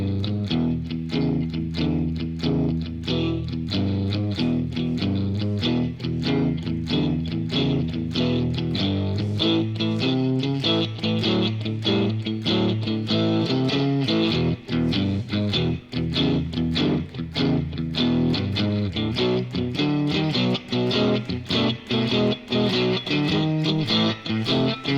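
An electric guitar plays a Texas shuffle blues rhythm riff, a loud, driving, unbroken swung pattern with crisp repeated pick attacks throughout.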